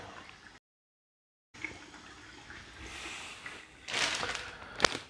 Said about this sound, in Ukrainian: Сам поки вмиюсь теплою водою.